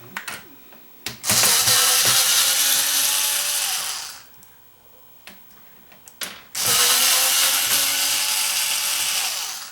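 A powered screwdriver whirs screws out of a Denon AVR2307 receiver in two sustained runs of about three seconds each, separated by a pause with faint clicks and handling noises.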